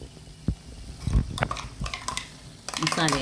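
Tomato and salt being stirred in a pot while making Moringa chicken, with irregular spoon scrapes and metallic clinks against the pot, close by, and a voice speaking briefly near the end.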